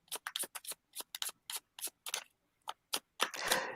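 Playing cards being shuffled during a board game, a run of short crisp riffling snaps at an uneven rhythm, ending in a longer continuous riffle, close and alone.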